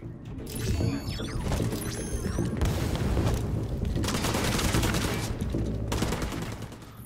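Sustained assault rifle fire in the video game The Division 2, dense bursts of rapid shots with booming impacts and mechanical clatter, loud and continuous throughout.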